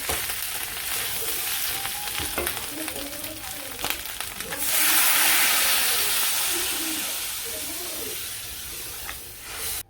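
Meat curry sautéed in a pan, a loud close sizzle with scraping stirs that swells into a strong steady hiss midway, while someone talks intermittently over it.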